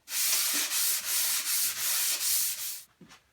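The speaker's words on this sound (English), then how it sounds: "now all I'm going to do is take a sander and make it nice and smooth" A sander smooths dried spackling on a wooden digital piano stand in about six rhythmic, loud, close rasping strokes, each lasting roughly half a second, with no voices.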